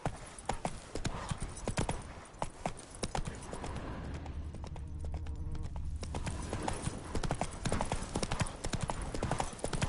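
Roach, a horse in the video game Witcher 3, clip-clops along at a steady walking rhythm, the hoofbeats crisp and close over a continuous ambient bed, with a brief softer stretch midway.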